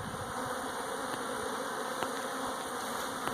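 Honey bees hum in a dense, continuous swarm around an open hive, close and steady, with a few faint clicks and no voices.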